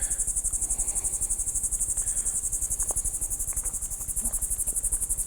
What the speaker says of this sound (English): listen, hear the bugs, the frogs